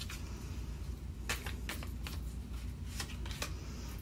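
Tarot cards are shuffled and drawn in a series of soft, quick riffling flicks and slaps, close and quiet over a low steady background hum.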